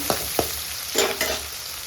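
Garlic cloves, small and about ten of them, sautéing in a pan for a mango tamarind curry, with a steady loud sizzle broken by a few sharp stirring scrapes and clatters, no voices.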